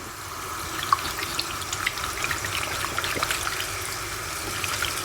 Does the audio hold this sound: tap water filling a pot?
yes